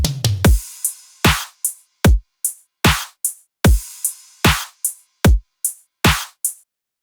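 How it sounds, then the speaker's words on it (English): Dubstep drum loop with punchy kick drums and layered snares, hitting in a steady half-time pattern of sharp, loud transients with short decays and silent gaps between, played alone without any voice. "So the drums by themselves sound like this."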